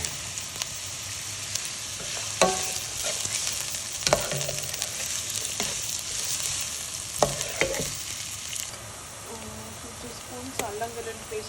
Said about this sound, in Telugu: ఆయిల్ వేడైన తర్వాత ఆనియన్స్ వేసి వేయించుకోవాలి